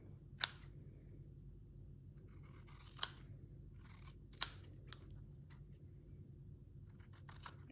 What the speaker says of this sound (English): Loving my new scissors, made in Japan.